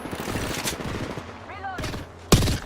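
Video game gunfire comes as rapid bursts of shots under a voice, ending in one loud, sharp blast near the close.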